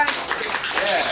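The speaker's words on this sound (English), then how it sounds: "how about we give you all a round of applause for such a great effort." A group of people gives a round of applause, a scattered patter of clapping hands under and around a voice, moderately loud and brief.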